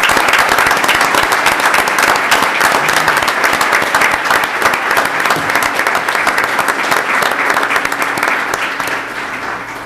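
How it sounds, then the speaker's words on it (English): A room of people at a school board meeting breaks into loud, sustained applause, dense clapping holding steady for about ten seconds before easing slightly at the close. "Round of applause"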